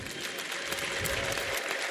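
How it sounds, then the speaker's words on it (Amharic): Congregation applauding during a church service, dense steady clapping from many hands, loud and near, with no pause over the short stretch. "ጭብጨባ ይገባዋል"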